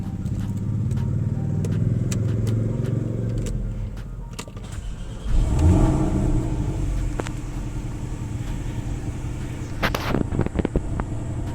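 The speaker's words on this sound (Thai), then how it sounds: "นะเดี๋ยวเราเข้าไปสตาร์ทรถให้ดูนะครับ สตาร์ทรถกุญแจอยู่นี่นะครับ" 2017 Porsche 718 Boxster PDK engine rumbling and idling, then a revving surge midway, with clicks and small mechanical noises scattered throughout, close by.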